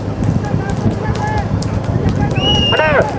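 Horses pulling carts at a rural horse cart race, hooves and noise from the crowd under loud, continuous commentary, with a sharp rising whistle-like call near the end.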